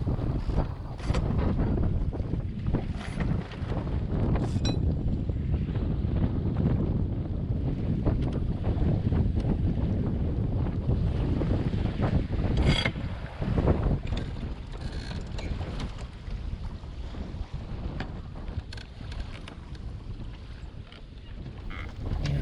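A sailboat moves along a channel in a steady breeze, with continuous rushing wind and water noise buffeting the microphone and occasional knocks and creaks from the boat; no voices.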